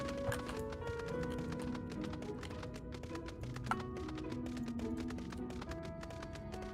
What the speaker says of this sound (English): I'm on my horse. My horse is amazing.